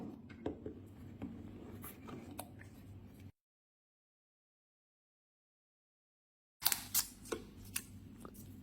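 Handling and opening the retail box of a vivo X80 smartphone: soft scraping, tapping and cardboard rustles up close, a silent gap midway, then sharper clicks and taps of the packaging.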